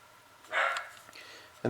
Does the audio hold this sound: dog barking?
yes